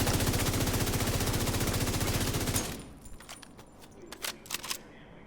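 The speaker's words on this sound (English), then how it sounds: "what I'm going to do is fire into this wall with no recoil control" A FAMAS rifle in The Division 2 is fired full-auto into a wall, one loud rapid burst that empties the magazine over about two and a half seconds, followed by faint scattered clicks and clatter.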